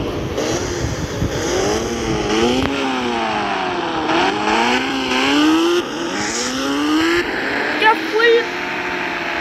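Motorcycle engine in the Indian Bikes Driving 3D video game, revving steadily with rising and falling pitch sweeps throughout, loud and close, with game music or effects layered underneath.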